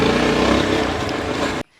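A Yezdi Adventure 2025 motorcycle being ridden, its engine and wind noise steady and loud close by for about a second and a half before cutting off abruptly.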